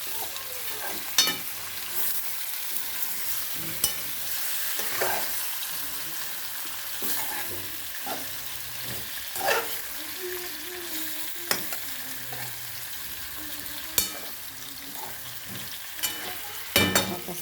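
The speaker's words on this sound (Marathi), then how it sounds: "आता मस्तपैकी हलवून घ्यायला लागले." Food frying in a pan is stirred with a sizzling hiss under steady, irregular scrapes and clinks of a utensil against the pan, each sharp knock standing out close and clear.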